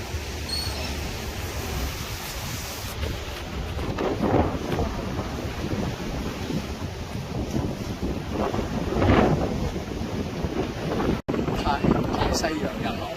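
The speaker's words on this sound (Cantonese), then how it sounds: "你睇下而家你都知啦，30幾米風㗎啦" Strong wind gusting across an artificial sand beach on the Atlantic coast of Florida, a steady loud roar with heavy buffeting that swells in waves, alone with no talk.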